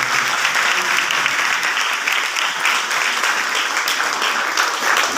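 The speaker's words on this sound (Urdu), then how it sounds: "تو فادر ندیم پیارے لال کے لیے بھی ہم زوردار تالیاں دیں." Loud, sustained applause from a church congregation greeting Father Nadeem Piaray Lal at his installation as pastor, a dense steady clapping that holds evenly throughout without pause.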